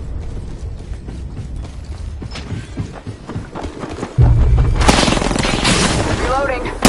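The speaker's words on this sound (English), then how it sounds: "Reloading." Mechanical clicks and ratcheting of a weapon reload in a battle royale video game, several short metallic clacks over busy background game noise, followed by a louder boom-like burst and sustained rumble.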